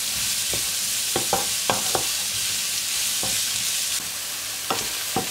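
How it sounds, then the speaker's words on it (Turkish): Onions, garlic and peppers sauté in a pan with a constant close hiss of frying, broken by several sharp clicks and scrapes of stirring. "öncelikle soğan, sarımsak ve biberlerimizi ekleyelim"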